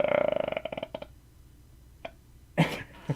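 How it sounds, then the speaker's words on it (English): A person's voiced, tonal burp stretches out with a pulsing rhythm, followed by short sputtering bursts, a brief pause, and then a louder, harsher belch close to the mic. "These are not pleasant burps."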